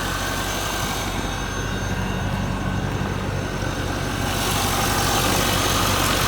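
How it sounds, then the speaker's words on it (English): A 1998 C5 Corvette's 345-horsepower LS1 V8 with automatic transmission idles in a steady, even rumble, close and loud, alone without talk, with a slight lift in level toward the end. "This is the 345 horsepower LS1 engine."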